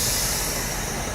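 A passing train gives a steady rushing roar with a hissy high edge, fairly loud and unbroken over a short stretch, with no voices.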